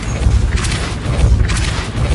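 Depulso force spell cast in Hogwarts Legacy, a loud booming burst with crashing noise, swelling twice over about two seconds with no talking.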